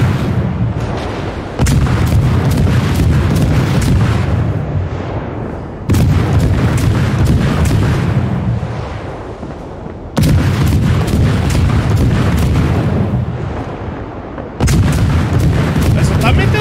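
Heavy warship artillery in the World of Warships naval battle game: four loud, booming salvos arrive at roughly four-second intervals, each rumble fading slowly before the next.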